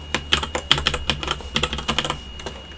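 Quick, uneven keystrokes on a computer keyboard as a cheat code is entered in The Sims 4, a dozen or so crisp clicks close up, with no voices.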